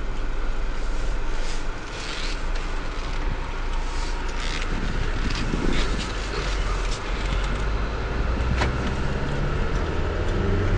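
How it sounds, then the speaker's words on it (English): A 2005 Volkswagen Jetta TDI diesel sedan with a manual gearbox pulls away in gear. A steady low engine drone and road rumble fill the cabin throughout, with a few faint rattles and no speech. "You just barely let off the clutch and she begins to move."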